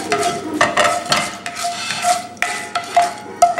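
Mustard seeds, urad dal and chana dal roast in hot oil in a pan, with crackling and repeated scraping stir strokes coming in uneven bursts, close and fairly loud.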